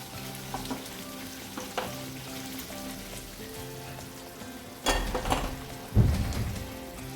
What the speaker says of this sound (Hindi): हम इसको ऐसे धीरे धीरे हिलाते रहेंगे ताकि नीचे ना लगे